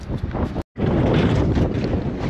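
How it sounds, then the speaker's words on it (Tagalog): Strong wind buffets the microphone on Cowes pier during fishing, a loud continuous roar with a brief dropout near the start. "Lakas ng hangin eh."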